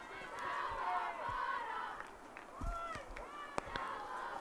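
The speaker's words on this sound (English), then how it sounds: "Hope teammates cheering Bottom on." Teammates cheering from the sideline at an NCAA Division III women's lacrosse game, Hope against Kalamazoo, as scattered shouts and yells rising and falling over a steady crowd murmur, with sharp knocks and clacks mixed in.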